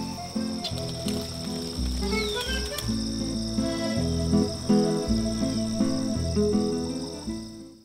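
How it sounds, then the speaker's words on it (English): Cicadas buzz and trill continuously in a dense chorus, steady and fairly loud, with faint rhythmic patter underneath. "the last of the summer heat releases the cicada's melody so sweet"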